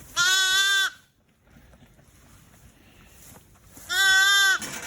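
Two loud, close sheep bleats on a farm, one at the start and another near the end, with a quiet stretch of low rustling between them; a ewe with two newborn lambs.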